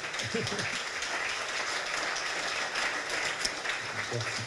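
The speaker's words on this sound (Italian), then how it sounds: "E ancora un applauso per Franco." An audience at an evening talk applauds a man, continuous clapping at an even level with a brief voice or laugh near the start and end.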